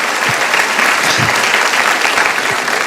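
Congregation applauding during a Spanish-language sermon, a loud, steady wash of many hands clapping close up with no break, and a few voices faintly audible beneath it.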